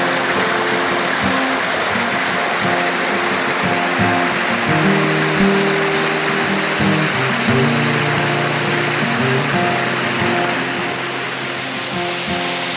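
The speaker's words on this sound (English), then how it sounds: "And it is a beautiful waterfall." A waterfall on Wolf's Pin Creek in the Sipsey Wilderness roars as a steady, dense wash of falling water, loud and close, with no voices.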